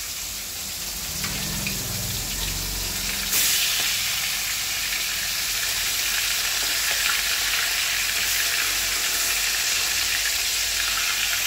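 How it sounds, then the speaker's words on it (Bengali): Pangas fish fillets frying in hot oil give a steady, close sizzle with dense crackling and splattering, getting a little brighter and louder partway through and holding there. "এগুলোতে বেশি তেল ছিটকায়"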